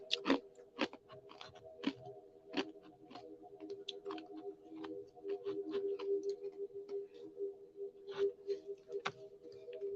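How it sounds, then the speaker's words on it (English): Ice being crunched between the teeth, a series of sharp irregular crunches and bites over a low steady hum indoors, close and fairly quiet with no talking. "I'm sorry if you guys have to hear me crunching my ice."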